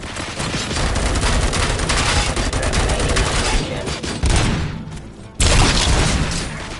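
Rapid bursts of gunfire fill a shooting scene in the video game RoboCop: Rogue City, a loud sustained fusillade with heavy overlapping shots, a brief lull near the end, then another sharp blast.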